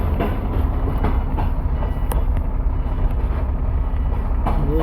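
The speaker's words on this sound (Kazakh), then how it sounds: "Пойыз өтіп жатыр." A long train rolls steadily past a railway level crossing near Balkhash, Kazakhstan, where a queue of vehicles waits; a loud, continuous rumble of wagons with faint clicking of wheels on rail joints runs throughout.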